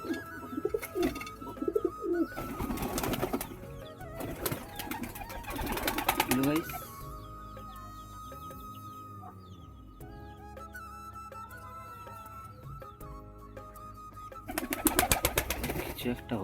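Pigeons coo in low rolling phrases at a backyard loft where chickens also roam, heard in bursts at the start and end beneath a steady hum and some background noise.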